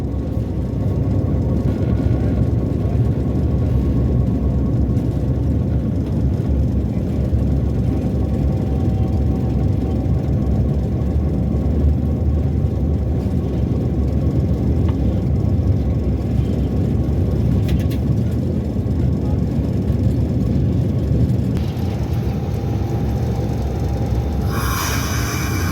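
A Pakistan Railways locomotive hauling attached coaches in a large yard near Quetta: a steady, loud, low engine rumble drones unbroken for the whole stretch, with a brief higher hiss near the end and no voices.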